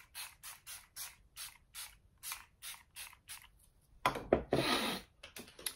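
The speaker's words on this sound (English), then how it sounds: "I'll spray it over again to set the makeup so that it lasts long." Quick short hisses of Too Faced Hangover 3-in-1 setting spray pumped over a made-up face, about a dozen rhythmic bursts followed by a longer, louder spray, close and with no talk.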